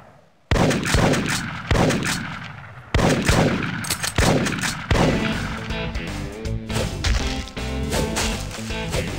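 Big Buck Hunter Pro rifle shots go off loudly in a row of sharp single cracks, each followed by a brief ringing decay, leading into a busier stretch of game sound.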